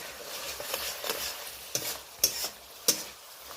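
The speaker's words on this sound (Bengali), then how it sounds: "এবার আমি এটা ভালো করে মশলাগুলোকে সব কষিয়ে নেব।" Spices sauté in oil for a fish curry, with a gentle sizzle under repeated stirring scrapes and several sharp clicks of the spoon against the pan, close and clear with no talking.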